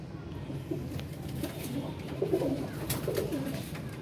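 Pigeons at a loft of flying pigeons give soft low coos that come and go against steady background noise, growing a little clearer toward the end.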